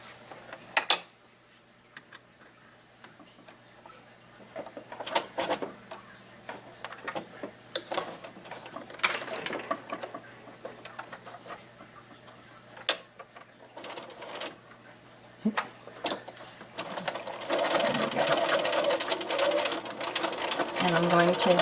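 A sewing machine runs in bursts of rapid mechanical stitching along the folded ends of a lanyard keychain card holder, each run stopping briefly and picking up again as it backstitches over the same seam, close and clear.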